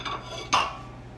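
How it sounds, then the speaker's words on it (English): Big cooking pot shifted on a stovetop, giving a single short metallic scrape and clunk midway through, quiet and close in a kitchen. "Move this big pot out of the way."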